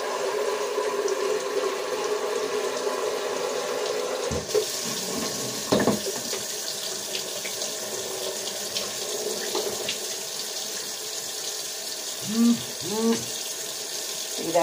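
Water streams from the repaired spigot of a Keurig K-Select coffee maker, a steady close splashing flow that shifts after a sharp clunk partway, with a few brief gurgles near the end and no talking.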